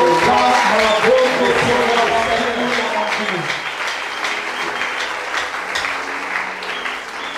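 A church congregation applauds and cheers loudly for several seconds, a dense wash of clapping and voices that gradually thins and softens toward the end.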